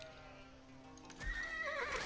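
Horses neigh in a strategy video game, a faint game ambience giving way to a sudden loud whinny with clip-clopping hooves, close and clear over the last second.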